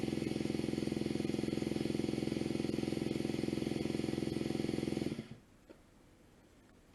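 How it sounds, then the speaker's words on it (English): A nitro RC engine in a T-Maxx truck spins over on a starter box with a loud, fast mechanical whirr for about five seconds, then cuts off, leaving only a few faint clicks. "get your starter box, put it in the top, and turn your engine over between 5 and 10 seconds."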